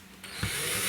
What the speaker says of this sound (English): So let's just see if I can drill a couple of screws